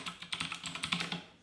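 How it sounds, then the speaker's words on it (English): A sentence is typed on a HAVIT HV-KB366L mechanical keyboard with blue switches, giving quick, loud, clacky keystrokes in an irregular, close-up rhythm with no voices. "This is me typing in a sentence. So it's very loud, very clacky."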